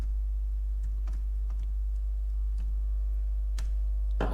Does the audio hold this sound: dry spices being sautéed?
no